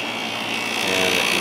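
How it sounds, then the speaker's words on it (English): A Fedders 7500 BTU window air conditioner runs with its compressor going, producing a steady, loud droning hum with constant tonal whine and broadband blowing noise, swelling slightly louder toward the end. "And the compressor just got louder again, like it always does after a while."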